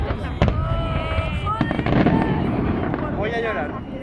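Fireworks burst over the Turia riverbed in Valencia during the Nit de Foc festival, a dense crackling barrage of repeated loud pops and whistles with an excited crowd and voices underneath.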